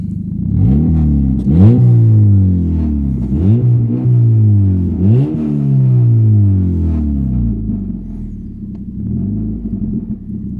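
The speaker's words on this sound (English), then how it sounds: "you can obviously tell that this thing's a lot louder than what a normal stock 4-cylinder would sound like" A 4-cylinder car with a loud modified, opened-up exhaust revs up close. Several rising blips climb and fall back to a deep, rumbling idle, and no one speaks.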